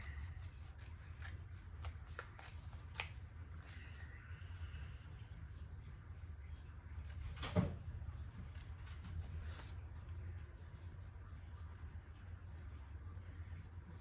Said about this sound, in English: So I'm just going to cut around here very slowly.